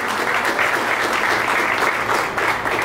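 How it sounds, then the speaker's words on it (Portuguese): A crowd applauds steadily and loudly at a Sao Paulo state government event announcing airport investments, continuous dense clapping with no pause. "a quem eu peço também uma salva de palmas sincera e merecida"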